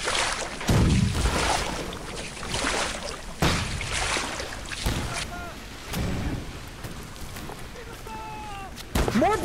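Ship cannons firing during a naval battle in the video game Holdfast: Nations at War, several heavy booms spread across the scene amid wind and water, with shouting players in the background.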